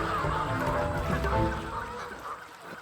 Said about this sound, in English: The geese in front of him merged with those from his childhood memories, becoming one amidst the clamor of their cackles.